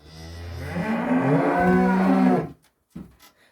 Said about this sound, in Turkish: Ama çok mölüyorlar yani böyle bağırmazlar